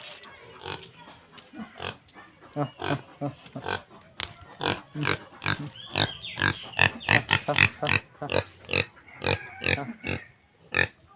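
Pigs at a farm in Assam, including pregnant sows, grunt close by in a rapid run of short oinks that grows busier and louder toward the end.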